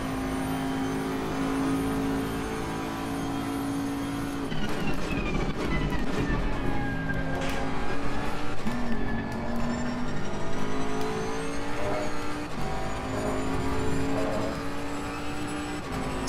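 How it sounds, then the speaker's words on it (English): Race car engine in the Assetto Corsa Competizione racing game, a loud continuous drone that rises and falls with revs and gear shifts throughout, with no talk. "See if we can hit that"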